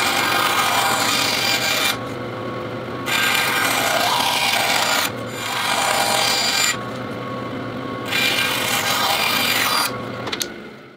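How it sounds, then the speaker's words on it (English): A bandsaw cuts excess wood from an applique for a 1905 Ithaca rifle butt stock, giving loud, steady rasping passes that stop briefly between cuts, close up with no talking. "Then I'm going to bandsaw away this excess material"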